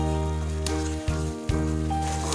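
Spice paste mixed with ground cashew and melon seed paste sizzles steadily in a pan for a wedding-style doi katla curry, a continuous soft frying hiss under sustained tonal background music.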